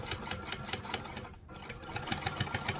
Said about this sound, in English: we're going to top stitch straight across just there. Add an 1/8 of an inch and we're going to back stitch to lock it in.